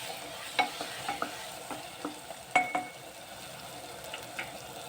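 A spoon scrapes and stirs potato and spinach masala curry in a pan, with soft intermittent clinks against the metal over a low background sizzle, several distinct strokes spaced through the stretch with no talking.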